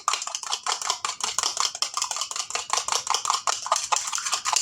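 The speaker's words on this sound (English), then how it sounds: "We're going to whisk this up just a little bit." An egg whisked into a potato cake mixture in a bowl, with a quick, steady run of close metallic clicks and taps of the whisk against the dish, no voices.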